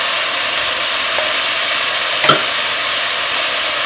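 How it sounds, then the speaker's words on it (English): Homemade chili sizzles steadily in the pot as two teaspoons of ground cumin are stirred in, a loud even hiss broken by one brief spoon knock. "again mix them well, stir them well"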